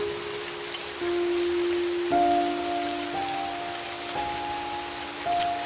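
Cartoon rain falls steadily at night on a lonely jungle road, a constant hiss of drops with sustained tonal notes layered over it.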